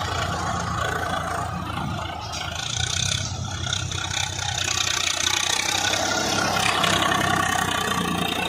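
A tractor engine runs at idle in a farm field where soil is being moved, giving a steady mid-to-low diesel drone with a slight rattle. It is heard at moderate distance, with no talking.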